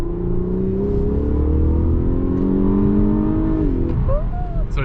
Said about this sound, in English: So it did shift to third right there without me touching the paddles.